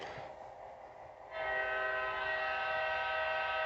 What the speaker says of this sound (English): And the train is still blowing its horn.